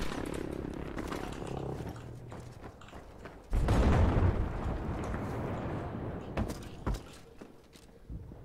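A heavy tank cannon blast booms out in Battlefield V amid ongoing battle noise, a deep loud explosion with a rumbling tail, followed by scattered distant impacts and clatter.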